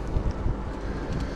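Outdoor wind buffeting on a cool, cloudy day, a low steady rumble with soft gusty surges throughout and no talking.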